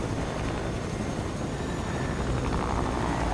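Helicopter flying in a video game gives a steady, loud rotor-and-engine drone that holds constant throughout with no talk.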